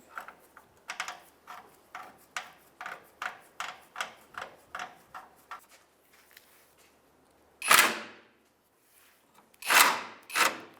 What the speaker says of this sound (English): we're just going to crank it on in until it's snug